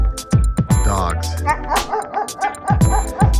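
Dogs bark and yip in short, loud bursts close by, with some whimpering between barks and a voice now and then.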